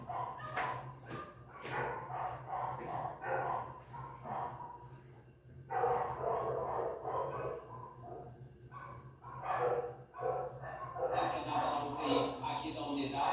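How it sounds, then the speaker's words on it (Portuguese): Several dogs bark and yip at a distance, in irregular bursts scattered through the stretch, faint and thin against a quiet background with a low steady hum. "ficou um silêncio, só a cachorrada latindo"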